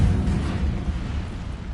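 A fire spell cast in Hogwarts Legacy roars as a dense, low rumbling whoosh of flame, steady and loud throughout with no voices over it.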